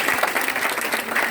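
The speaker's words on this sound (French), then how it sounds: "on va d'abord donner la parole au président du jury que je vous demande d'applaudir très fort" An audience at a school debate applauds the jury president with loud, steady clapping from start to finish.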